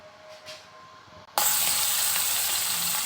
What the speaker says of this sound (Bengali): আমার তেলটা গরম হয়ে গিয়েছে, আমি যে মাছগুলো এক এক করে ভেজে নিচ্ছি